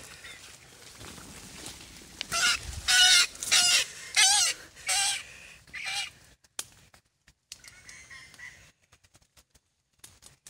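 A trapped jungle fowl hen gives a burst of loud, agitated clucks and squawks at close range, several sharp calls in a row, then fades to quieter rustling and scattered faint sounds with no talking.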